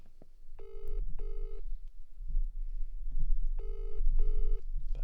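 A telephone ringing tone purrs in two paired bursts, repeated twice over steady background noise, moderately loud and close, with no speech.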